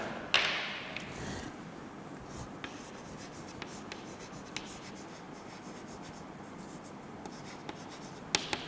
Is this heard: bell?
no